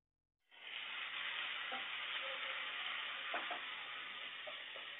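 Chopped onion frying in hot oil in a pan, a loud steady sizzle starting abruptly and continuing throughout with a few small pops and stirring scrapes, no talking.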